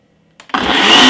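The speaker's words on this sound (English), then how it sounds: "blend this in roughly about 3 seconds" A kitchen blender starts up with a short click, then spins into a loud, steady whir as it blends a thick broccoli and strawberry drink with honey and water. Only the first second of running is heard, close to the blender.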